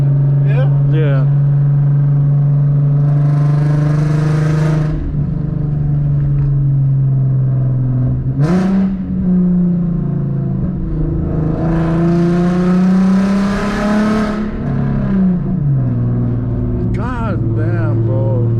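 An Infiniti Q50 accelerates hard, heard from inside the cabin: a loud engine drone rises through repeated pulls, with pitch sweeping up and dropping at gear changes, while occupants talk excitedly over it.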